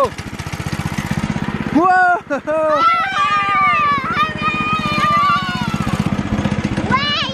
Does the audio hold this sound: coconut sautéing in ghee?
no